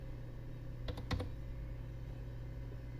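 A short burst of four or five clicks typed on a computer keyboard, fairly close, sits over a quiet background hum and then stops.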